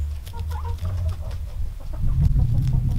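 Backyard chickens clucking and murmuring close by in a coop, several overlapping soft calls and low throaty clucks over a steady rumble, growing a little louder toward the end.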